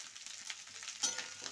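Food sizzling in a pan with turmeric just added, stirred with soft scraping; a steady close frying hiss with a brief louder stir midway, no voices.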